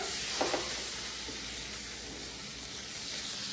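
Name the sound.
salmon and shrimp sizzling in a hot pan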